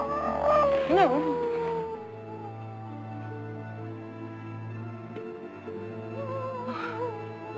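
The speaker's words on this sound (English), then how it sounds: "Just some old coyote listening to himself." Distant coyote howling at night in a Western setting, long wavering cries rising and falling over a sustained low drone, then a second howl near the end.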